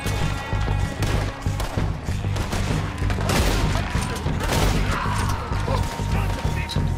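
Gunfire in Red Dead Redemption 2 rattles in dense, overlapping volleys with crashes and mechanical clatter, loud and continuous for several seconds.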